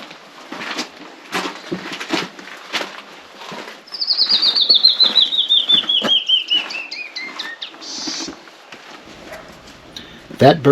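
A bird flies close by on the rim trail at Pinnacles National Park, its wingbeats a quick, fluttering patter, while a sweeping descending call passes over and people talk and move around.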